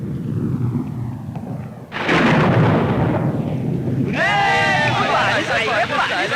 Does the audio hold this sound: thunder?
yes